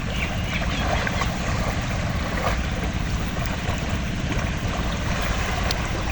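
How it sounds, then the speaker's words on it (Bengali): A strong river current rushes along a riverbank that is eroding, a steady, dense roar of water that stays even and loud throughout, with no voices. "দেখেন কি পরিমাণে স্রোত।"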